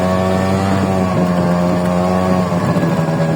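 A Honda Dio scooter's small engine drones steadily with a rich buzzing hum as it rides slowly over grass on an off-road track, loud and close with wind noise.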